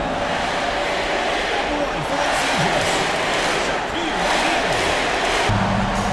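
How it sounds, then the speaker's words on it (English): Huge arena crowd roaring in the basketball video game NBA 2K25, a dense sustained swell of cheering that stays loud across the whole stretch, with commentary voices mixed in. "That shot eliciting a roar from this gigantic crowd."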